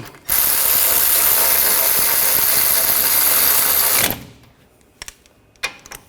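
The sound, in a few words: tightening brake caliper bolts with a ratchet on a Nissan Rogue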